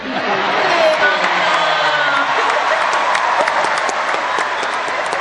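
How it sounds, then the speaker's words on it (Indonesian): A crowd at an outdoor Ramadan charity event in Jakarta applauds steadily and loudly, with scattered cheers and laughter mixed into the continuous clapping throughout. "Tepuk tangan buat Ibu"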